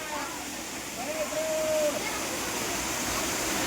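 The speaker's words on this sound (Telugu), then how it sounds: "జూన్ టైంలో కూడా నీళ్ళు బాగానే వస్తున్నాయి." A steady, dense rush of the Dara Mattam waterfall near Narsipatnam runs continuously at moderate loudness, with a voice talking over it.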